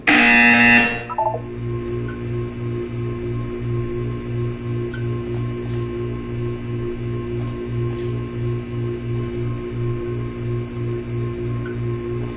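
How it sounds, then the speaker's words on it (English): A loud electronic buzzer in the video game Portal 2 blares for about a second, followed by a low pulsing hum that repeats rhythmically over a steady background drone. "When you hear the buzzer, look up at the ceiling."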